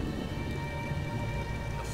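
Steady rainfall in the video game Fallout 4, a dense continuous patter at even loudness throughout, with no voices.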